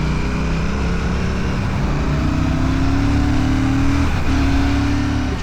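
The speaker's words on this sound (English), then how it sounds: "parallel twin, roughly 650 cc's or thereabouts, 270-degree crank, so it sounds absolutely magic" A Royal Enfield Classic 650 parallel twin with a 270-degree crank runs loud and close, holding a steady drone with slow rising revs and a brief dip near the end.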